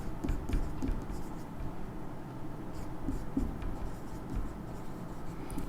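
Chalk or marker scratching and tapping on a board during a physics lecture on electric dipoles, soft irregular strokes set against faint room noise.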